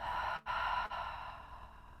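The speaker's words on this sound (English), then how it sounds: "open your mouth, exhale" A long, soft exhale through an open mouth during a gentle hatha yoga grounding practice, with two short breaks, then trailing off into a quieter, airy fade.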